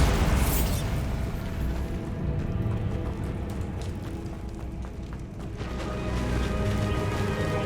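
Blasting, freezing and explosive spells fired in quick succession in the fantasy game Hogwarts Legacy: a sustained barrage of loud booming bursts and crackling impacts with rumbling low end, no voices over it.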